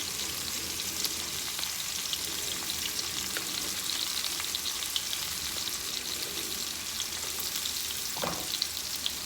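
Food sizzles and fries steadily in a pan as it caramelizes, a continuous bright hiss with occasional small pops and a faint stir near the end.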